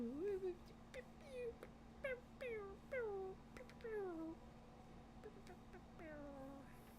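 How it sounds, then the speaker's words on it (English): Cat meowing repeatedly, a series of rising and falling meows spaced through the quiet indoor scene, fairly close and soft over a steady low hum. "Meow."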